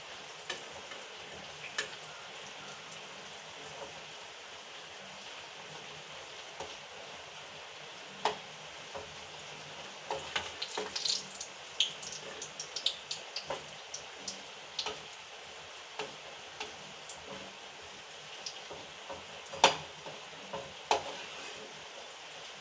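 Parippu vada, lentil fritters, frying in hot oil give a steady soft sizzle with scattered sharp crackles and pops, close and continuous, with no talking.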